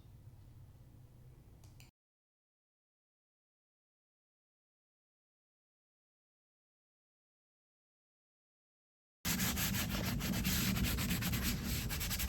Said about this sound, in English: Sandpaper takes care of the jaggies that the jigsaw leaves.